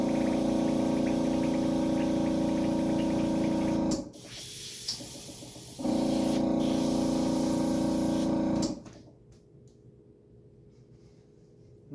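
An airbrush sprays FX makeup thinned with alcohol in two long hissing bursts with a steady motor hum, each cut off sharply, then a quieter stretch between and after the bursts.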